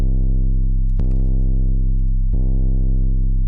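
A deep, sustained 808 bass tone with distortion in FL Studio drones loudly and continuously, with a couple of brief clicks cutting through it.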